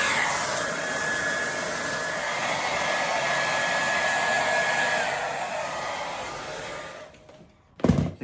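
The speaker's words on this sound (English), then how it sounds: "take your time with the tumble dryer" A tumble dryer drying a down jacket runs with a steady, loud whooshing drone and faint whine, then cuts off near the end followed by a brief clunk.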